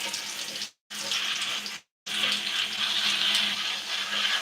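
Steady faucet water runs onto hair during a wash-and-go rinse, a broad close hiss broken by two brief cut-offs near the start, then flowing continuously without talk.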